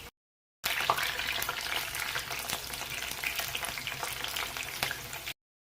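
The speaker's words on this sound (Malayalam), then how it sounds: "ചൂടായ എണ്ണയിലേക്ക് കുറേശ്ശെ ഇട്ടൊന്ന് വറുത്തെടുക്കാം" Okra pieces fry in hot oil for a crispy okra fry, giving a steady, close crackling sizzle with small pops throughout and no voices.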